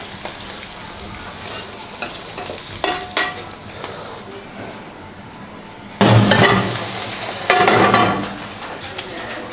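Garlic fries in olive oil in a pan for Spanish prawns, a close, steady sizzle with occasional clinks and scrapes of stirring, swelling into louder bursts of crackling partway through.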